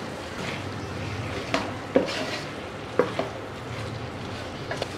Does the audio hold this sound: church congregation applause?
no